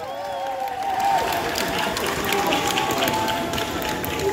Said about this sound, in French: Je vous demande un tonnerre d'applaudissements pour Bess.